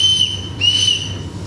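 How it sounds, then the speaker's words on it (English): Safety whistle blown at a city public work session in Portsmouth, Virginia, two short, shrill, high-pitched blasts over a low background hum, fairly close. "raise your whistle, blow it three times"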